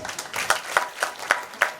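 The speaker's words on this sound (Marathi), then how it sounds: "आपल्याबद्दल खरंच स्वतःसाठी जोरदार टाळ्या वाजवायच्या" A small crowd at a Marathi kirtan gives a short burst of rhythmic, evenly spaced claps, moderately close and fairly loud, with soft murmuring underneath.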